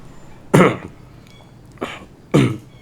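Three short, explosive bursts of a person sneezing, one loud, then a weaker one and another strong one, each abrupt and separated by brief quiet in an otherwise still room.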